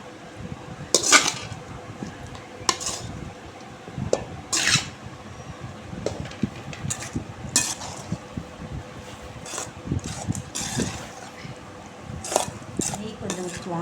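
A spoon scrapes and clinks against a cooking pot while tomato rice is stirred with a little ghee, giving irregular metallic knocks and scrapes that repeat over the stretch against a quiet room background, with no talking.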